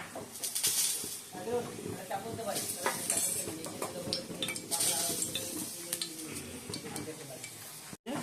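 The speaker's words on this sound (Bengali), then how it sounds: "মাছটা ভেজে নিয়েছি আর আলুগুলো ভাজছি" Potatoes fry in a pan with a steady hiss and sizzle, broken by occasional stirring scrapes and utensil clinks, with a voice speaking over it.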